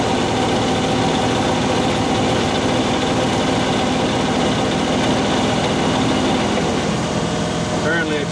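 A Jeep J20 Gladiator truck's engine runs with a loud, dense, continuous rumble and vibration throughout, close up, with a voice faintly beneath it.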